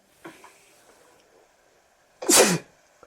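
One loud, sudden sneeze bursts out close by, after a softer breath or small sound earlier, in an otherwise quiet room.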